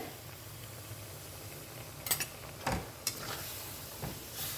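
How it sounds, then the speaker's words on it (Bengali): A little water, rinsed from the spice bowl, goes into spices frying in a pan for a drumstick and potato curry. A brief hiss and bubbling sizzle follows, with a few scraping stirs, close and moderately loud. "খুব সামান্য পরিমাণে জল আমি অ্যাড করছি এতে"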